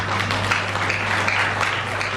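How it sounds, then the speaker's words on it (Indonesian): Audience applause at a Christmas celebration of the Christian fellowship of the Southeast Sulawesi courts, a steady, dense wash of clapping lasting the whole stretch over a faint low hum. "Kita beri tepuk tangan untuk kita."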